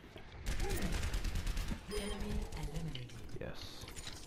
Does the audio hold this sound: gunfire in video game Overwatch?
yes